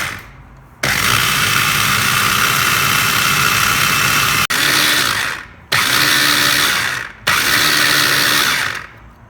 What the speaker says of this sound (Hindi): और इनको हम अच्छे से ग्राइंड कर लेंगे।